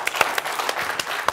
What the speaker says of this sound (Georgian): აპლოდისმენტები პირველ რიგში.